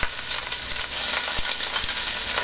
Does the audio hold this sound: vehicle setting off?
no